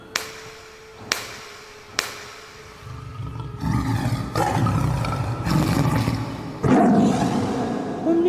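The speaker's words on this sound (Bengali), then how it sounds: "বাঘের ডাক শোনা গেল আবার এবার মনে হলো ডাকটা আরো কাছে" Three sharp hand claps ring out, followed by a long, rumbling tiger roar that swells and grows louder toward the end.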